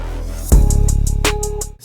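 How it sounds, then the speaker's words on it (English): Synth from the Hans Zimmer plugin with filter cutoff automation, a low sustained tone that swells after a sudden hit while bright accents brighten the texture, short and loud with no speech. "The filter cutoff of the plugin, which opens up like so"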